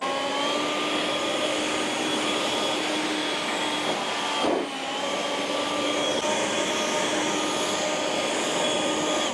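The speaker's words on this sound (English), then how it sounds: "It's a bit therapeutic that, cutting that grass with that machine." A STIHL brushcutter cuts lawn grass with a loud, steady motor whine close by, dipping briefly once midway and then running on evenly, with no talking.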